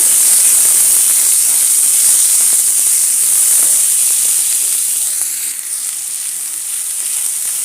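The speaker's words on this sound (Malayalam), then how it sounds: "സവാള ചെറുതായി അരിഞ്ഞത് ഇതിലേക്കിടുക. നന്നായി ഒന്ന് വഴറ്റിയെടുക്കുക." Finely chopped onions sauté in a pan for potato masala, producing a loud, continuous hissing sizzle that holds steady for several seconds and dips slightly near the end, with no talking.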